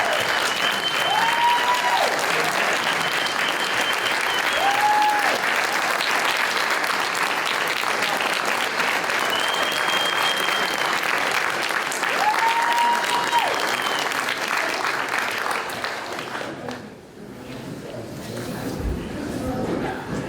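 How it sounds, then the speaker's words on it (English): Dinner audience rising for a standing ovation, sustained full-room clapping that holds steady for a long stretch before thinning briefly near the end, with faint chatter mixed in. "Let's give these folks a standing round of applause."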